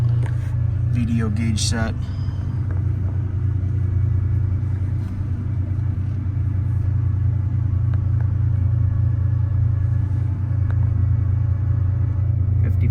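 A 1989 Porsche 911 Carrera coupe with about 55k miles idles after a cold start, a loud, steady low rumble running throughout while someone talks over it.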